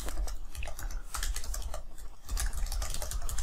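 Rapid clatter of fingers typing a web address on a computer keyboard, dense uneven bursts of key clicks close to the microphone with brief pauses, no speech.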